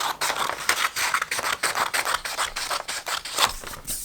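Scissors cutting a sheet of paper along a drawn line, close up: a quick series of crisp snips and scraping rasps in an irregular rhythm, with no talk.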